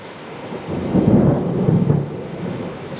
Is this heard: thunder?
yes